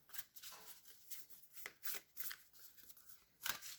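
Oracle cards being shuffled in small batches, a close series of soft riffling and slapping bursts with brief pauses between them, no voices.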